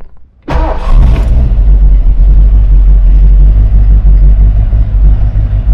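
A 1975 Ford F-100 pickup with a 351 V8 cranks briefly and then fires into a loud, close, rumbling run that holds steady with no talking.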